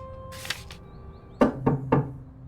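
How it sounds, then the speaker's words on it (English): Three sharp knocks on a door in the video game Through the Darkest of Times, struck in quick succession over a quiet musical background with a faint earlier chime. "I hear a knock on the door."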